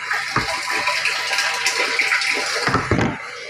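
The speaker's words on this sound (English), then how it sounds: "I'm draining water from that barrel up the side, rainwater into our tanks" Rainwater gushes and splashes steadily as it drains from a barrel into storage tanks, with a few louder bursts of flow, running close by with no talk.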